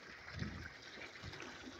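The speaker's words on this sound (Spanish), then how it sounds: "aquí estamos echando el agua" Water being poured out on a hot day while working outdoors, a soft, low gushing and splashing in uneven surges, faint and without speech.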